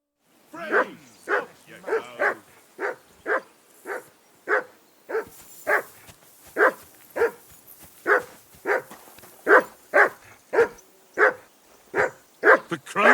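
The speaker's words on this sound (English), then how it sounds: "Call off that damn dog before he wolfs down the last of our meat." A dog barks in Kingdom Come: Deliverance II, about twenty sharp, evenly spaced barks in a steady run, close and loud against a quiet background.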